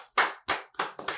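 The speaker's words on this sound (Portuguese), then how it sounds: "Apresento a todos vocês, Fátima Ribeiro, uma salva de palmas." A small group claps for a podcast guest in a short, sparse round of applause, four distinct close claps spaced evenly, with no talking.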